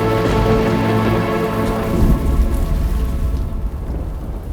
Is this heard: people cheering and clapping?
no